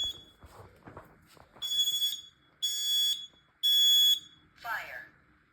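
Smoke alarm sounding during a household test, three loud, steady, high-pitched beeps of about half a second each, evenly spaced and close by, after brief talk and followed by a short voice.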